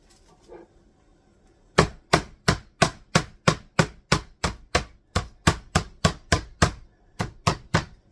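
A piece of chicken being pounded flat for chicken rollups, a quick run of about sixteen sharp, evenly spaced thumps, loud and close, following a brief quiet start.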